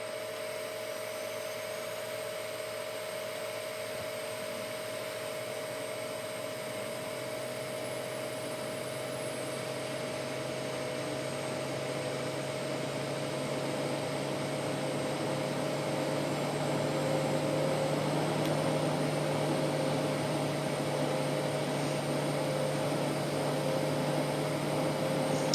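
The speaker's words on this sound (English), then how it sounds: "that engine 2 is spooling up" An Embraer E190 jet engine spools up in the X-Plane flight simulator, a steady whine with layered tonal hums slowly building in loudness across the stretch, with no talking.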